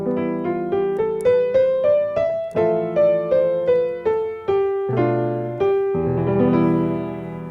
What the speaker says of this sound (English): Here's the Phrygian mode again, the one beginning on E.